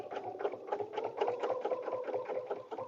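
Sewing machine stitching paper-pieced fabric for a butterfly dresser scarf, a steady quiet run of rapid, evenly pulsing needle strokes at close range with no pauses.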